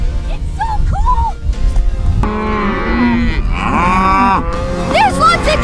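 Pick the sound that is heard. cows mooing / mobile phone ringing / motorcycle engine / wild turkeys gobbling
cows mooing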